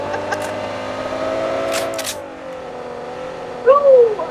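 A vehicle drives in PUBG Mobile with a steady engine drone whose pitch slides downward, then a brief squeal-like chirp near the end. Faint clicks sound early on, with no clear speech.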